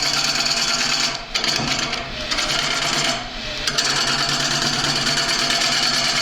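An irregular wooden bowl blank spins on a wood lathe while the tool rides the cut, giving a steady, loud, rasping scrape with a rhythmic chatter throughout and no pauses.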